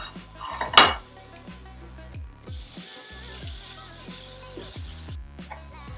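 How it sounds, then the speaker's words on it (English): Onion and garlic sautéing in a pan for shrimp scampi, heard as a close series of metal utensil clinks and scrapes against the pan with a loud clatter near the start and a soft sizzle underneath. "now that my onion has been sauteing, I'm gonna go ahead and add my small section of garlic"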